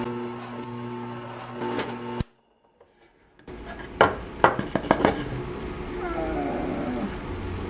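A drill with a dull countersink bit bores into wood, a whirring drone that cuts off abruptly, followed after a short silence by sharp clicks and knocks and a softer ongoing rustle.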